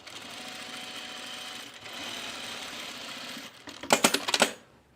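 A sewing machine runs a gathering stitch on a halter top near the neckline, a steady close whir for several seconds ending in a few sharp clattering taps before stopping.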